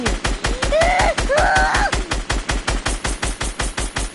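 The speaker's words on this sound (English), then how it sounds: "Guess what? I'm shooting you." Rapid automatic gunfire in a video game, a steady, evenly spaced burst of loud shots rattling on without pause, with a brief electronic whine of game effects sounding in the middle.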